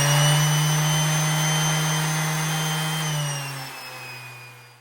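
Old-style electric sander on turbo speed, a loud steady motor whine with a high pitched tone that winds down toward the end, no talk.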